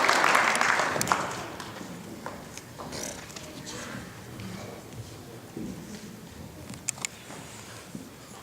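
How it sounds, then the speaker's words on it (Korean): A church congregation applauds the pastor and his wife at a children's Sunday service. The clapping is loudest at the start, then fades into scattered claps, shuffling and a few sharp knocks. "우리가 더 격려와 축복의 박수 먼저 보내드리겠습니다."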